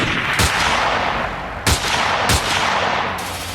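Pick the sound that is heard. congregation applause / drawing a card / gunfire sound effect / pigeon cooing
gunfire sound effect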